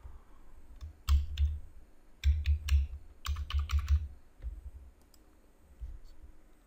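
Bursts of computer keyboard typing with sharp key clicks while logging in to a Google account, in three quick clusters followed by a few scattered taps, close and fairly quiet.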